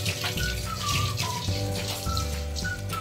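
Chicken gizzards rinsed under cold running water from a tap, a steady close splashing flow that continues throughout with no talk.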